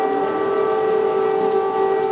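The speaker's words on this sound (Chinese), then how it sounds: "空袭警报响彻清晨6点多的基辅" An air raid siren sounds over Kyiv in the early morning, a loud, sustained, steady wail holding one pitch throughout, with no voices.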